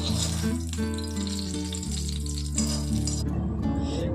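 Shallot tempering poured into a prawn and tomato curry, a close, steady sizzle and frying hiss with a faint clink of utensils, no voices.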